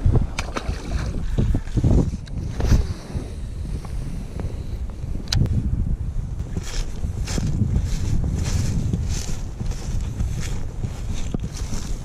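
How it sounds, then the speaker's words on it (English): Strong wind buffets loudly and steadily outdoors while fishing, with gusty rumbling and noise throughout, nearly drowning everything else. "the wind's picked up a lot. It is super windy now"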